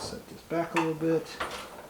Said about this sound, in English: Put another washer in on the other side. And one more nut.